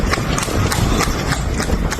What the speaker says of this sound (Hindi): अब ये जो देख रहे हैं घोड़ा गाड़ी वाले, बिजनौर है ये।